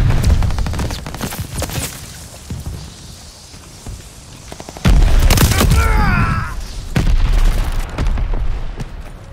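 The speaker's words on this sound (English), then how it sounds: "Allies calling a mortar barrage." In Call of Duty: Vanguard, a mortar barrage from the Allies hits during a Domination match. Heavy booming impacts and rumbling blasts roll out loudly over steady gunfire, with brief game voice callouts.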